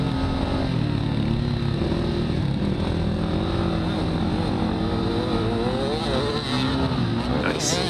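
Dirt bike engines roar steadily through a hare scramble at Horn Rapids in sand, a continuous loud revving drone with shifting pitch as throttle rises and falls, close to the rider throughout.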